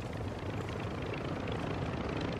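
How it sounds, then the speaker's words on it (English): Helicopter approaching in a combat video game, a steady dense rotor and engine rumble filling the background at moderate level, with no talk over it. "Got chopper coming in."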